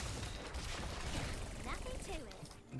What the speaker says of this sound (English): she has to spend some time to reload